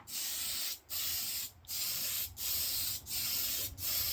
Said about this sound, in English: spray from both directions